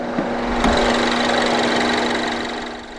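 A 2016 MINI Cooper S Countryman's 1.6-litre turbocharged inline-4 petrol engine with dual overhead cams and 16 valves runs at a steady idle, giving a continuous even hum with a faint mechanical tick after a brief click near the start.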